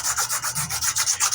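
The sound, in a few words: hand sanding a wooden knife handle with 240 grit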